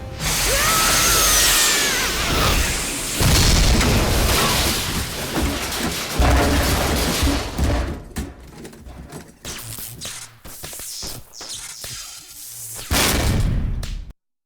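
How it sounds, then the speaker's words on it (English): An explosion as a rocket is blown up in the PS4 video game Jak 3: loud, dense roaring blast and rumbling debris for several seconds, then scattered crackles and a final burst before abrupt silence. "This is where you just blow up a fucking rocket,"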